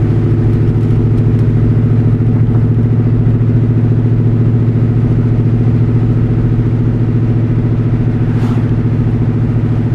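Low, steady rumble of a New Edge Ford Mustang GT V8 with boreless stingers and an off-road X pipe while driving, a constant droning hum inside the cabin with no revving changes.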